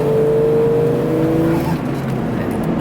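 A Jeep Cherokee XJ engine accelerates steadily under load, a loud, close drone with a rising whine, heard on its own without talk.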